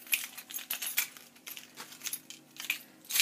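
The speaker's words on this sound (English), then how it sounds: "My keys." Keys jingle as they are pulled from a purse, a string of bright metallic clinks and rattles in short irregular bursts, close and fairly quiet with no talking.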